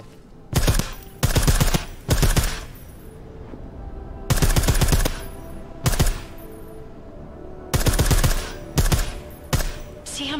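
Rapid bursts of silenced gunfire in the video game Deus Ex: Mankind Divided, loud clustered shots in short volleys separated by brief pauses, repeating through the stretch.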